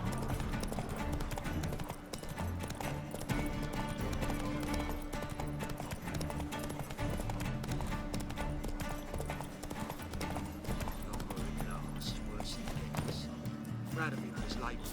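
Rapid clip-clop of the horse Roach galloping through a Witcher game world, a steady drumming of hooves held up for the whole stretch under game music, with voices talking over it.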